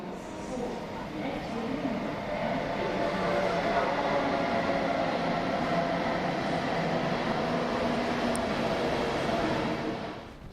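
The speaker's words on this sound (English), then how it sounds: "This is the Weimar Bahnhof, the train station, built in 1846" Station ambience at Weimar Bahnhof, a train station built in 1846, with a steady, continuous rumble of rail activity and a crowded hum that holds at an even level throughout, with no clear individual events standing out.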